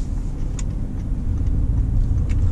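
Audi A8L with a 3.0L diesel engine pulls away as it starts driving, a steady low engine rumble heard from inside the cabin, with faint clicks over the drone and no talking.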